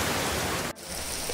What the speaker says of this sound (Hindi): इतनी जोर से बारिश आने लग गई कि हम लोग यहाँ पे रुकना पड़ रहा है।